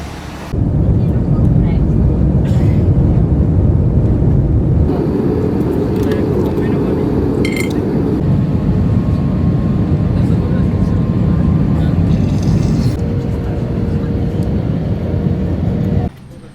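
Airliner cabin on a flight to Prague, a loud, steady low roar of engine and air noise that stays constant throughout, with faint voices underneath.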